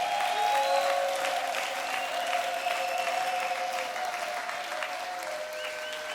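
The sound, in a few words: congregation applauding and cheering for God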